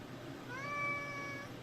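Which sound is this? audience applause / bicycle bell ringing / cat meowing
cat meowing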